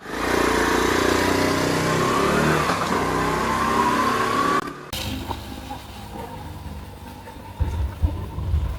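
A motorbike engine runs loud and close, revving with a rising whine, then cuts out abruptly, leaving quieter room sound and a couple of faint thumps.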